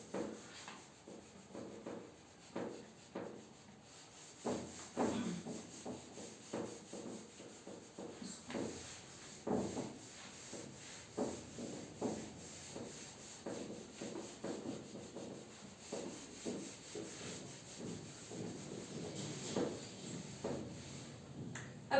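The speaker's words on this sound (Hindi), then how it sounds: "इसको मैं रब कर देती हूँ।" Writing being rubbed off a board during a classroom lesson on ecology, with repeated dry scrubbing strokes in an irregular rhythm, heard close and fairly quiet for about twenty seconds.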